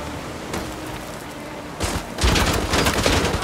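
Bursts of automatic gunfire in the shooter game Call of Duty Modern Warfare 2 Remastered, with sparse shots early, then a heavier, louder fusillade of rapid rattling fire in the second half.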